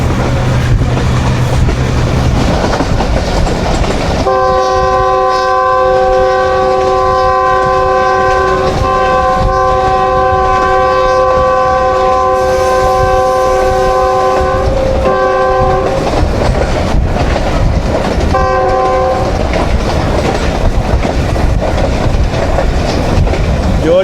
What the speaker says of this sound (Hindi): बड़े अरसे के बाद ये ट्रेन चली है, और हमारी ख्वाहिश है कि ये ट्रेन कामयाब हो और आगे भी चलती रहे।